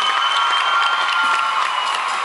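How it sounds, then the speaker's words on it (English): Dense, steady applause from a concert audience at a show, a continuous close wash of clapping with some cheering mixed in, holding level throughout. "Give them a round of applause."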